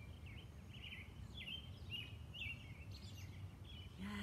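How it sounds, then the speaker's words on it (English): Birds sing outdoors in a church cemetery on a morning, a series of short, moderately distant chirping phrases repeating over a steady low background hum, with no talking. "Can you hear the birds singing?"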